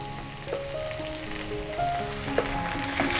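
Boiled broken wheat is tipped into vegetables already frying in a kadai, giving a steady, close sizzle with a few soft clatters and scrapes as it lands, and no voices.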